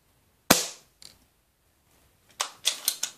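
Ares MS700 airsoft rifle firing 0.2 gram BBs: a sharp close crack, a faint click, then a quick cluster of four snappy shots near the end, with silence between.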